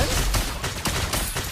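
Rapid-fire gunshot skill effect in a video game, a dense burst of overlapping shots that stays loud and continuous throughout.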